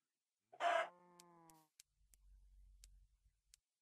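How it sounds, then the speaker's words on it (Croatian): Chicken in the Minecraft video game: a single short squawking cluck, clear against silence, followed by faint soft clicks and a low rumble. "nemojte misliti da ovo patka. Nije, to je kokoška."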